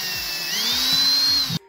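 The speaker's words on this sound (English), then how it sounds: "I want is a 7/64 drill bit so I can drill the holes for the hangers." A power drill with a 7/64 bit whines close by, its pitch rising as it bores hanger holes for a biltong machine, holding steady, then cutting off abruptly near the end.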